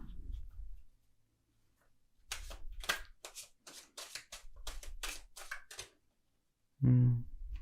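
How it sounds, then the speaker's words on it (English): A deck of tarot cards is shuffled by hand in a quiet room, with rapid bursts of riffling and flicking paper snaps after a soft start, and a dull thump near the end. "We're just going to shuffle these cards."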